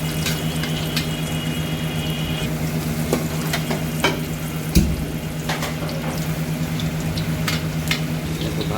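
Breaded cheese barrel rolls fry in hot oil with a steady, even sizzle and bubbling hiss, close and constant, broken by a few light clinks and one soft knock.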